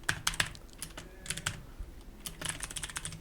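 Fingers type a command on a computer keyboard in quick, uneven bursts of crisp key clicks, with short pauses between clusters, close and clear with no talking.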